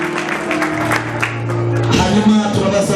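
Applause and crowd noise fill a church wedding ceremony, steady clapping with a few shouts and whoops swelling toward the end, with a sustained musical tone underneath.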